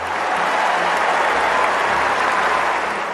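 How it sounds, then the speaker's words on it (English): Crowd roaring and applauding at Wimbledon centre court as a royal enters, a steady wash of clapping and cheering from a large audience, sustained and even across the moment. "And the roar of the crowd."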